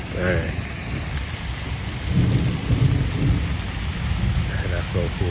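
Distant thunder from lightning over dense city buildings in Kuala Lumpur: a low, rolling rumble swelling midway, mixed with steady rain noise and faint voices.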